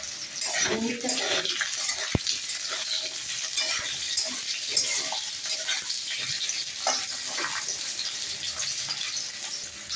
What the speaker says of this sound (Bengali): মাছের টকের জন্য আলুটাকে ভাজতে দিলাম।